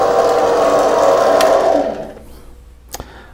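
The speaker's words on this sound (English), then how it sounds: "you can see that it's turning and the carriage is now moving along under power from the half nuts." A running LMS 5100 mini lathe with its carriage traversing under power through the engaged half nuts, a steady motor whir for under two seconds that then drops off, followed by a quieter hum and a brief click.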